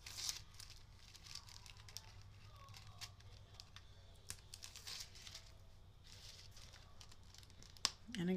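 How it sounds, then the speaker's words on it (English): Release liner is peeled off adhesive on a handmade craft card, producing faint crinkly paper tearing and rustling in short bursts, close but quiet, with a soft sharper snap near the end. "Just peeling off that release liner."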